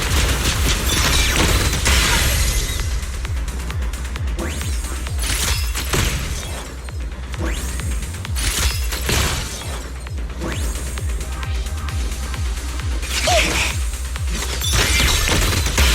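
Sustained weapon fire in a Zenless Zone Zero battle: dense, continuous volleys of rapid gunshots and crashing impacts keep up for the whole stretch, loud and close, with bright bursts rising over a heavy rumbling bed and no talk.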